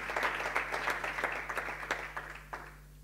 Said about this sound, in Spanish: Un aplauso, sí.